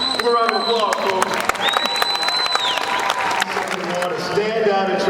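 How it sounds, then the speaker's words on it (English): Applause for a family standing to be honored at a school wall of fame induction ceremony, clapping mixed with crowd noise and a few whistles, with an announcer's voice over it. "Give a round of applause, folks."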